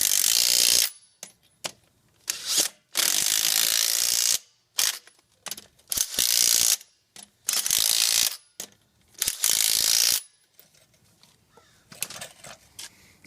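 Locking lug nuts are tightened to 110 foot-pounds in a star pattern, heard as a series of loud, close ratcheting bursts of clicking, each separated by short silences, ending with quieter handling noises.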